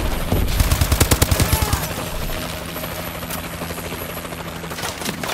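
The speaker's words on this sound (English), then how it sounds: "Friendly assault drone inbound." An assault drone hovers with a steady droning whir in an online shooter video game, while rapid bursts of automatic gunfire rattle loudly over it in the first seconds before the drone hum continues alone.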